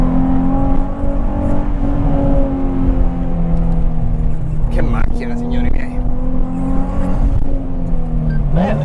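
A Nissan 350Z engine droning steadily from inside the car during normal driving, loud and continuous with shifting tones as revs rise and fall, and voices talking over it.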